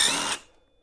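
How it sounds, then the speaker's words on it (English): A power tool whirs briefly to remove the bolts from the rear sprocket of a Venom Ghost Chopper 250, one short close burst that cuts off and fades. "next we got to take off our bolts"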